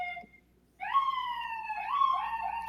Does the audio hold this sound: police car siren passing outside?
yes